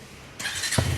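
A KTM Duke 250 Gen 3 motorcycle, left unused for seven days, cold-starts with a sudden loud burst of cranking that catches into a deep, throaty idle, heard close up.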